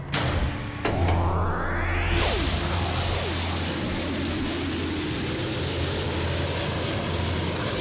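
Cartoon airplanes fly in a steady, loud roar of engines with whooshing passes, a sharp swooping sweep near the start, and a continuous droning hum throughout.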